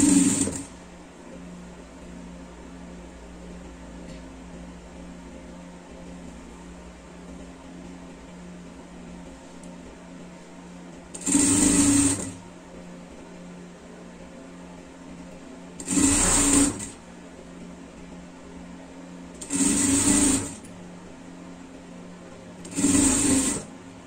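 A sewing machine stitches a ribbed cuff seam on an Olympic-style tracksuit sleeve, running in four short bursts of rapid whirring spaced a few seconds apart over a quiet room hum.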